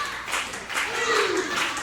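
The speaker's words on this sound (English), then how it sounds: "Oh, but the crowd here, Singin River, trying to will Christopher back to his feet." Wrestling crowd at an indie show cheering and clapping steadily throughout, a broad wash of hand claps and vocal roar with a rising shout near the middle.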